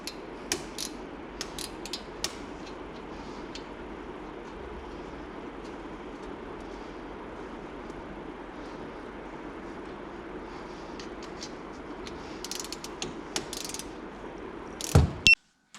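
A ratchet wrench works on the brake caliper bolts of a 2015 Dodge Dart, with scattered quick clicking bursts over a low background hum, clustered near the start and again toward the end, ending in a sharp clatter.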